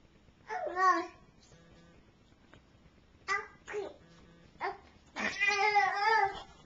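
A cat meows several times in short, plaintive calls separated by pauses, the last one longer and louder, with no one talking.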